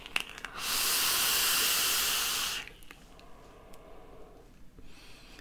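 Vandy Vape Pulse BF box mod with a micro coil and wide-open airflow firing as a continuous soft hiss for about two seconds, then dropping to quiet room tone.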